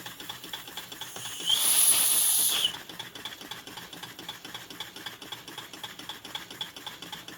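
A small Stirlingkit DIY steam engine with boiler chuffs in a fast, steady mechanical rhythm, broken by a loud, sharp burst of steam hiss lasting about a second before the engine carries on alone.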